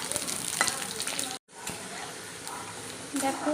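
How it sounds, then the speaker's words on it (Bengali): Cut potatoes frying in mustard oil with dried red chillies give a close, steady crackling sizzle with light stirring noises; it cuts out for a moment partway through, then resumes and grows louder near the end. "আলুগুলোকে একটু ভেজে নেব।"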